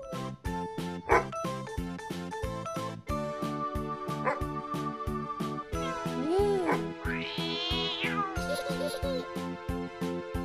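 A cartoon dog barks in short yelps amid a busy, rhythmic musical score with jingling tones, the barks mixed into the music rather than standing alone.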